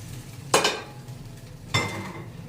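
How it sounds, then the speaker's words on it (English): A frying pan is wiped down in a few light scrapes, two brief clattery bursts of utensil against metal over a quiet steady kitchen background. "a very light, quick cleanup on the pan"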